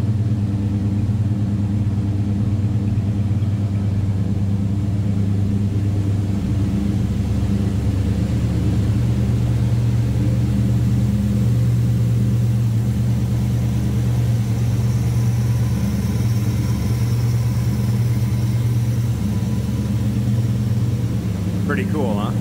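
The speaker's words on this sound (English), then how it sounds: "Nothing crazy over the top exhaust wise, just a nice sounding car." A 1970 Plymouth Road Runner with a 400 cubic inch V8 runs steadily nearby, a loud, even low rumble with a mild exhaust note that holds without revving throughout.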